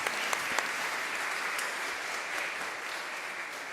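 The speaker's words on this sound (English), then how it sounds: "you should give all of yourselves a round of applause" Attendees at a Providence city council meeting give a steady round of applause, an even, moderately distant wash of clapping lasting a few seconds with no talk over it.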